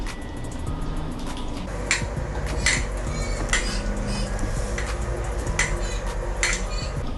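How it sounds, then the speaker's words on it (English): A spatula folding dry ingredients into orange cake batter in a bowl, a continuous soft scraping with sharp clinks against the bowl's side, close and alone. "you're going to use that spatula to combine it, fold it in"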